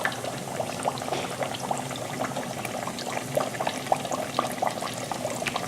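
Flounder deep-frying in hot oil for a po'boy, a dense steady crackle and bubbling with many small pops spread evenly throughout, close and moderately loud with no talking.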